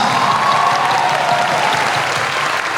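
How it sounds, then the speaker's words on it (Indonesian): Church youth congregation at a jamboree clapping together in steady, dense applause that fills the room at full strength throughout. "Semua dong tepuk tangan orang besar."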